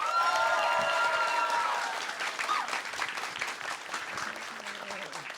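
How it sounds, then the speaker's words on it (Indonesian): An audience at a stand-up comedy show bursts into loud, dense applause to welcome a comedian to the stage, with some cheering. The clapping starts full, then thins and fades while a voice begins talking over the tail. "komika pertama kita sambut dengan aplaus yang paling meriah untuk Awe"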